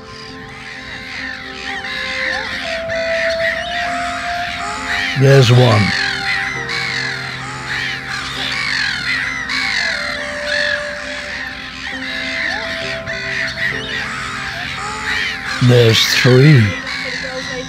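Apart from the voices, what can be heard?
black-headed gulls calling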